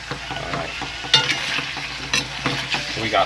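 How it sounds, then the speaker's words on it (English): Green curry paste and pork meat fry in a pan, a steady close sizzle broken by several louder stirring scrapes, with no talking over it. "Frying with the meat. Green curry paste, viewers."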